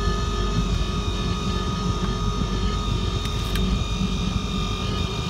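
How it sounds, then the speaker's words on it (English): The air conditioning fan of a 2007 Ford F550 blows steadily inside the cab, a loud constant whooshing rush with a faint tonal hum and no talk. "Air's blowing cold. Sounds like it needs a new fan at some point"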